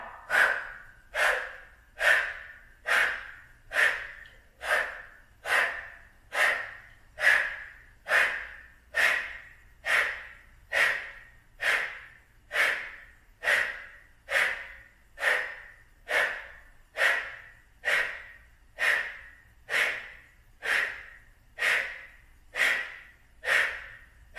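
Rapid belly-pumping breath of fire during a yoga flow, about twenty-five sharp, evenly spaced nasal exhalations in steady rhythm, close and alone without talk.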